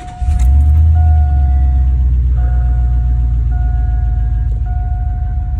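Car engine idling with a lifter tick, a steady close mid-range rumble holding throughout, a thin constant tone riding over it and no talk.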